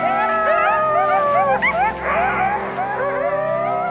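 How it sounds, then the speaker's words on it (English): A pack of Yellowstone coyotes howling together, many overlapping rising and falling yips and wavering howls in a dense, loud chorus. "This group howl means they're all still buddies."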